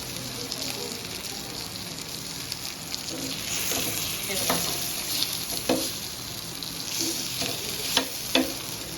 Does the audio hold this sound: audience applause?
no